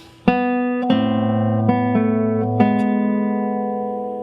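A slow guitar passage of several plucked chords, each ringing and overlapping, clean and close, with the low bass note cut short partway by the thumb resting on the string.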